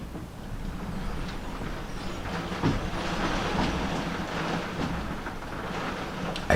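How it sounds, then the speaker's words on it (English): Heavy rain pours down outdoors in a dense, steady roaring hiss that stays loud and even throughout, with a few sharper knocks near the end. "It's absolutely pouring down here at the moment"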